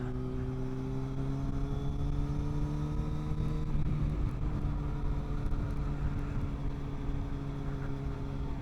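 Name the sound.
motorcycle riding toward Kuala Lumpur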